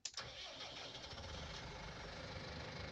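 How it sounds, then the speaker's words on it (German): A Massey Ferguson 4700 tractor engine in Farming Simulator 19 cranks and catches after a short starter whir, then settles into a steady, fairly quiet idle. "lassen wir mal den Motor an"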